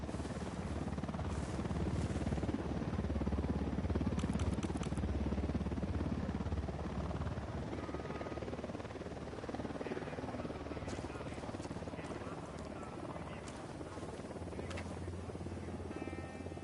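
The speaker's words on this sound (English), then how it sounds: "Unidad chopper." A helicopter in a shooter video game thrums steadily, a continuous loud rotor drone with faint metallic clicks and game noise over it.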